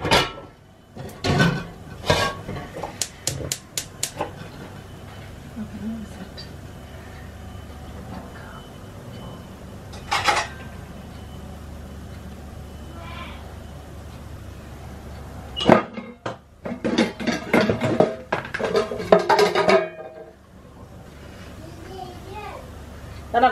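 Pans and cupboards handled in a home kitchen while making kalojam mishti syrup: scattered clattering knocks and bangs, with a cluster near the end, under intermittent talk and children's voices.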